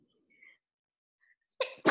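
A sudden sneeze bursts out after near silence, a sharp two-part burst with a short intake followed by a loud explosive release, close to the microphone.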